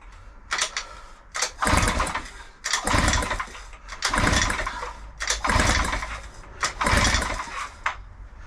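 An old Mercury outboard engine, left sitting for over five years, is pull-started at wide open throttle: five sharp recoil-cord pulls in a steady rhythm, each a loud, close burst of cranking rattle, with no talking.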